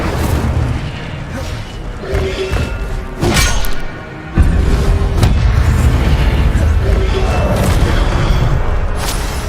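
Spells strike targets in the video game Hogwarts Legacy, giving heavy booming thuds and bursts in quick succession with layered rumbling effects, loud and up front, while a voice calls out spell names.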